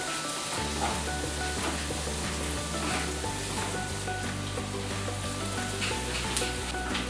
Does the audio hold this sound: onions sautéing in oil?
yes